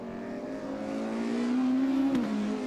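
A modified Ford race car screams past at Mondello Park circuit, its engine note climbing steadily and loud, then dipping sharply on a gear change near the end.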